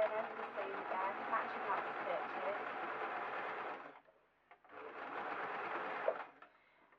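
A sewing machine stitches over a fleece seam on a balaclava, a steady close whirring run of about four seconds, a brief pause, then a second shorter run.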